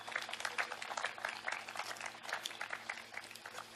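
An audience at an outdoor Hindi poetry gathering in Haldwani claps together, a dense, even wash of applause heard from some distance, fairly quiet, with a steady low hum underneath.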